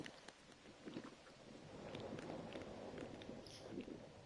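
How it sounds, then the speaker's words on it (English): Rain pours steadily with low rumbles of thunder in the Disney Dreamlight Valley video game, a continuous moderate wash of rainfall with a few soft footstep-like taps, no talking. "Why is it raining?"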